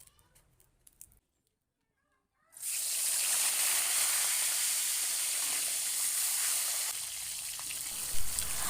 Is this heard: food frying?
yes